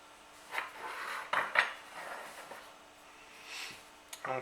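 Kitchen utensils clink and scrape against dishes while filling empanadas, a few sharp metallic taps standing out among softer rubbing and handling noises close by, with quiet pauses between.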